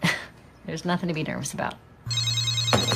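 A telephone rings with a bright trilling electronic ring that cuts in near the end, loud and close, right after a person speaks.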